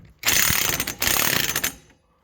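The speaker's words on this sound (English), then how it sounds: "So either I loosen it a little or tighten a little more here." A hand ratchet clicks rapidly as it tightens the axle nut on an ATV CV axle, two close, loud bursts of sharp ratcheting with a brief pause between them.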